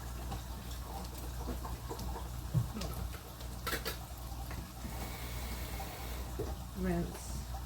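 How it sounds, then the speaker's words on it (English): Garbanzo beans get rinsed under a running tap, a steady faint wash of water with scattered clinks and shuffles, while a voice speaks softly now and then. "Okay, beans rinsed."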